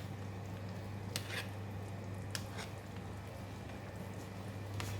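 Quiet, steady bubbling and faint crackling of water at a rolling boil in a pot of pork ribs soup, with a low hum underneath and occasional soft clicks.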